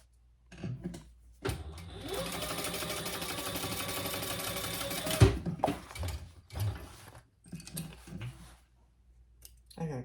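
A sewing machine bastes a swivel clasp onto fabric in one steady, near mechanical whir of rapid stitching lasting several seconds, followed by scattered handling clicks and knocks.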